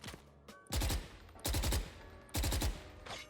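Phantom rifle spray fire from Valorant: three short full-auto bursts of rapid, evenly spaced shots, each about half a second long, separated by brief pauses, close and punchy with no talk over them.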